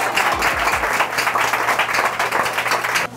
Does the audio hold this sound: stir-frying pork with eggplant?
no